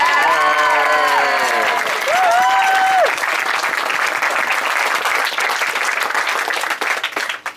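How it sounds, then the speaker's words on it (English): Wedding guests applauding during a groom's speech, loud, sustained clapping with whoops and cheering voices rising early on before the clapping tapers off at the end. "go on, clap there"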